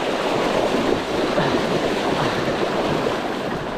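A vehicle fords a river on a challenging off-road route, with continuous loud rushing and splashing water filling the scene, steady and close with no talk.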